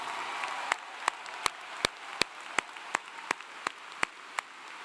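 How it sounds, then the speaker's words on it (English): A few scattered, distinct claps ring out roughly twice a second over a faint background wash at a university commencement ceremony, honoring a national anthem singer, sparse and fairly close. "Will you please give a big, loud round of applause to Anna Grace for the great job she did singing the national anthem?"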